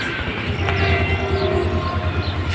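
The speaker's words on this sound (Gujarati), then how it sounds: "વાહ મિત્રો, રેલગાડી આવે." A train rumbles past nearby with a low steady roar and rattling wheels, a faint horn tone rising briefly over the noise.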